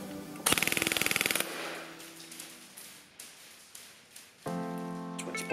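G&G ARP 9 airsoft rifle with ETU and MOSFET, on an 11.1 battery, fires a loud, rapid full-auto burst of about a second, then goes quiet before a mechanical whir picks up near the end.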